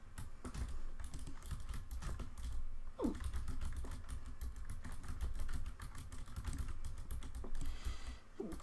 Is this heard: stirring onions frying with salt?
no